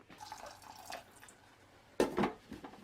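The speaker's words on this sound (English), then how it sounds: "I'm going to add a tiny bit of water so it doesn't scorch." Water poured into a hot cooking pan on a stove, a brief sizzle and splash in two quick bursts near the end after faint clinks and quiet kitchen noise.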